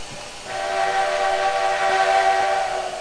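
Steam whistle of an NP S-10 4-6-0 locomotive in the Trainz 2019 game, a steady chime tone sounding from about half a second and held loud and unbroken to the end, with no talk.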